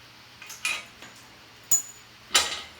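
Metal clinks from pulling the pin on a Harbor Freight shop crane leg, four sharp separate taps and rattles, close and clear with no talk.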